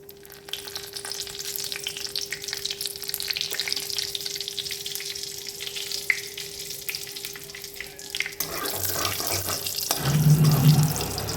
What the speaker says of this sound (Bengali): এবার আলুটাও ভেজে নেব।